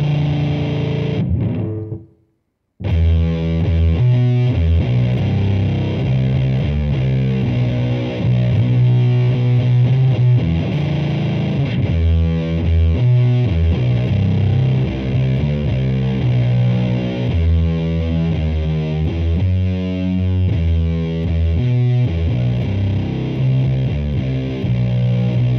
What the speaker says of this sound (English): That chord right there is a root minor third dyad.